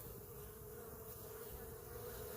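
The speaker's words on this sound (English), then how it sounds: "watch the bees coming in" A soft, steady drone of many honey bees buzzing together at a hive entrance, with a constant hum and no other sounds.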